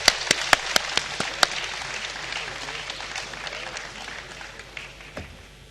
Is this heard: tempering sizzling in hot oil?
no